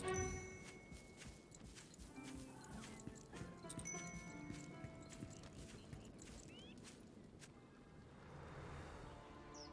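Faint, irregular robot-horse hoof clopping in a busy video game soundscape, with scattered clicks and ambient noise and occasional voices in the background.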